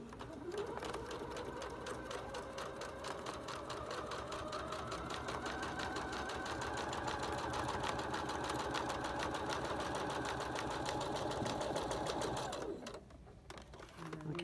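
A PFAFF IDT sewing machine stitches through nine layers of denim in one steady, fast, close mechanical chatter that runs unbroken for about twelve seconds, then stops abruptly.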